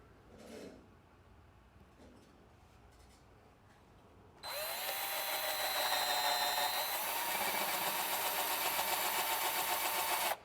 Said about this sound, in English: drill a hole in it, a couple of holes actually.